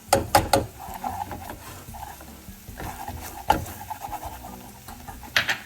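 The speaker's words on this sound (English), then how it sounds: "Okay, and that's gonna start to form like a roux. Let's whisk that really well." Butter and flour are whisked in a pan into a roux for Alfredo sauce, giving close, steady scraping and swishing strokes with a few sharper clicks against the pan.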